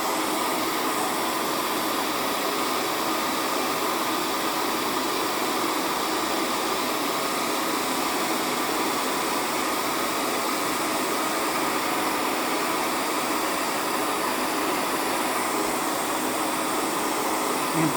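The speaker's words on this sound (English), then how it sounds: "Then you just take your hair dryer." A hair dryer blows steadily on waxed canvas, a constant close whoosh that holds an even level for the whole stretch with no break.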